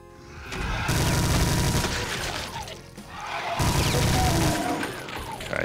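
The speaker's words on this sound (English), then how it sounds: "Minigun for this part." Minigun in the Brutal Doom mod for Doom II fires in two loud sustained bursts, each a dense continuous roar of rapid shots with crashing debris, separated by a short break.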